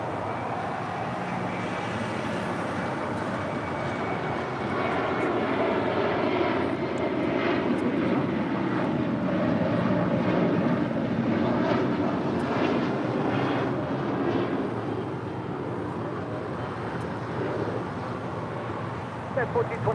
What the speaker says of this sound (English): That was United Airlines Flight 1428 heading to Las Vegas, 737-800